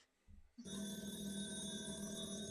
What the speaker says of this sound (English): 4 a.m. phone call.